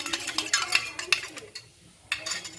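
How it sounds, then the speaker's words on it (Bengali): Home remedy ingredients being stirred together in a container, a quick series of light clinks and scrapes from a spoon, pausing briefly before a few more strokes. "এবারে সবকটি জিনিসকে খুব ভালো করে একে অপরের সাথে মিশিয়ে নেব।"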